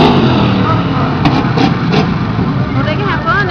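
Small monster trucks on wet ground, engines revving and rumbling continuously up close, with people talking over the noise.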